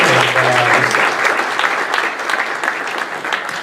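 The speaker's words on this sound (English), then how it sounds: "please, round of applause real quick for Mark" Audience applause for a presenter at an investment conference for family office investors. A dense, steady burst of clapping from a full room begins loudly and tapers slightly over a few seconds, with a brief low hum at the start.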